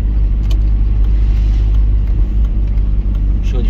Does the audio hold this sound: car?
yes